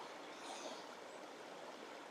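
The Reen, a small stream beside a park at Doniford Beach in West Somerset, flows toward the sea with a steady, soft rushing and gurgling, continuous and fairly faint, with no voices.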